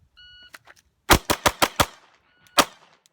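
Pistol fired in a bill drill, a quick string of five sharp close gunshots followed after a short pause by a sixth, preceded by a timer beep.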